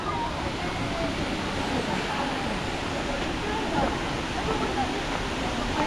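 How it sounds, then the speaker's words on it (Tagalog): Hinulugang Taktak waterfall in Antipolo roars in a constant, dense wash of falling water that fills the whole clip at steady loudness. "Ay, may falls pala."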